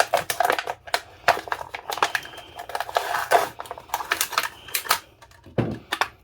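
Blade cutting the front off a plastic bottle, heard as a run of sharp, irregular crunching snips and crackles of the plastic, close and fairly loud, with no voice.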